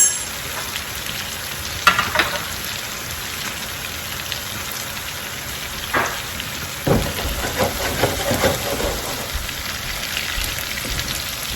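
Food sizzles and crackles on a fire in a steady, moderately quiet hiss, broken by a few louder pops and scraping bursts, with no voices.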